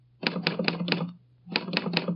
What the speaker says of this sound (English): I'll type the name out for you now on my Underwood typewriter.